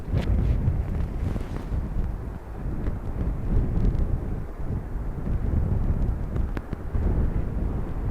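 Strong, blustery crosswind buffets the microphone at an airport, a loud continuous low rumble that surges and eases in gusts throughout.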